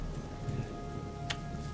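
Soft, steady rain patters in the video game Gothic, a faint, even hiss of drops with a few brief ticks standing out, quiet and continuous throughout.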